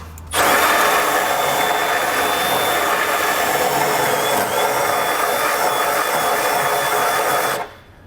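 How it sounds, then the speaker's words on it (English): Power drill bit boring out and enlarging a hole in steel vehicle frame metal while fitting a Curt trailer hitch on a 2022 Chevrolet Equinox, one steady loud whine lasting several seconds before stopping abruptly. "I will take the bit here and enlarge this a little bit until it's big enough to allow that hardware to pass through"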